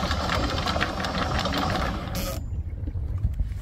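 An anchor windlass motor on an Oyster 54 yacht hums steadily with a low mechanical drone, running continuously for about two seconds before cutting off, leaving a quieter background rumble.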